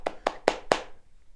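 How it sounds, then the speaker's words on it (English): Four sharp hand claps from one person demonstrating a clapping style, close and evenly spaced, followed by quiet. "Some people clap like this."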